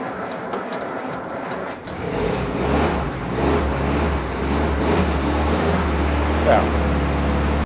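A WW2 Jeep engine cranks, catches and settles into a steady, loud idle close by, with a continuous low rumble and a few faint clicks at the start.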